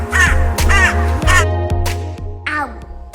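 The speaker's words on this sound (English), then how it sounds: "Crow has black shiny feathers." Several loud, close crow caws with harsh harmonic calls, repeated in quick bursts with short gaps, the last one set apart after a pause.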